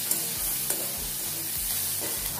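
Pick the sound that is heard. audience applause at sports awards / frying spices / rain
frying spices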